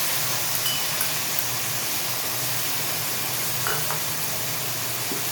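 Tomato paste sizzles steadily in a hot pan of mixed vegetables, a dense, even frying hiss that holds close and constant without pause.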